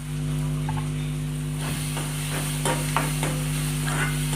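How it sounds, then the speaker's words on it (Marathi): A spoon stirs turmeric powder into a chana dal curry in a pan, giving a run of scraping strokes over a steady low hum and faint sizzle, close and fairly loud, with no talking. "चांगलं हलवून घेऊन"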